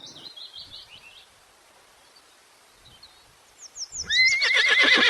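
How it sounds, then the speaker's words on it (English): A horse neighs with a loud, whinnying call that rises after a stretch of faint birdsong and quiet, shaky breaths. "H for horse"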